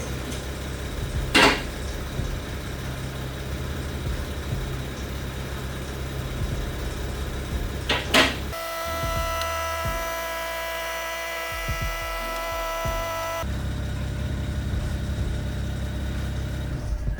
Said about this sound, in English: I think that clicking sound is wastegate rattle in one of the turbos.